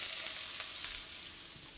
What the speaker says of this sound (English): We're gonna let it sauté